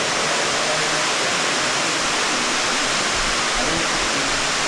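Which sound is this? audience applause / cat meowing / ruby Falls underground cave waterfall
ruby Falls underground cave waterfall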